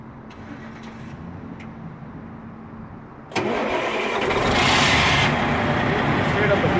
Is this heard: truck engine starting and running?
yes